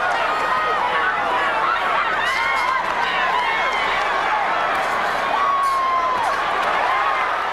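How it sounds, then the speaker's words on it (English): A boxing arena crowd roars and cheers continuously for Johnny Tapia in his fight against Marco Antonio Barrera, a dense, loud wall of voices with whistles and shouts, with no break throughout. "Tapia crowd rising from their seats, trying to urge their man back into the fight."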